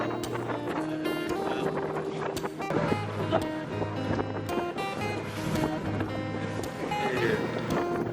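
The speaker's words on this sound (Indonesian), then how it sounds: "Perahu yang kami tumpangi melaju perlahan, memecah ombak kecil sambil meninggalkan jejak putih di Laut Biru yang tenang." A boat moving slowly through small waves on a calm sea near Onrust Island in the Thousand Islands, with a steady engine hum and continuous water wash that hold a constant level from start to finish, with no voices.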